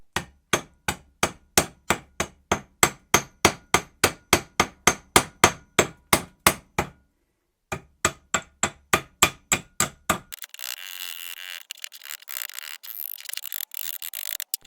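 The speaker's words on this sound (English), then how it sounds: "Now you want to tap around the casing to try and release it." Hammer tapping around the rusted, seized cast halves of a turbo casing from a 1.9 PD Skoda Fabia: a long run of sharp, evenly spaced metallic taps, a brief pause, more taps, then a rougher scraping stretch at the end.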